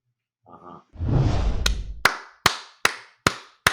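A run of five sharp, evenly spaced claps stands out alone after a brief whooshing rustle, each crisp hit followed by a short decay.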